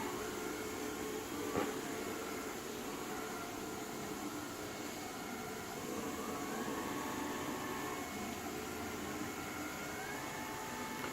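A TONOR robotic vacuum cleaner with auto charging runs steadily indoors, giving a continuous whirring motor hum with faint tonal whine, fairly even in level throughout, with a brief knock near the start.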